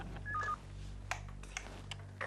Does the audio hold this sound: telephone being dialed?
yes